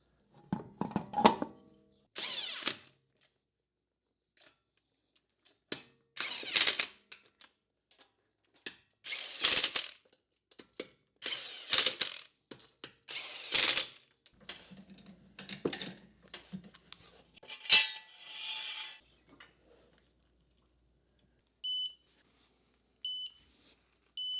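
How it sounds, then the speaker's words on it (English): A wrench ratchets lug nuts tight on a 2022 Subaru Outback wheel: repeated bursts of sharp clicking in irregular runs with pauses, close and fairly loud, followed by a few faint electronic beeps near the end. "we're going to torque the lug nuts to 88 foot-pounds"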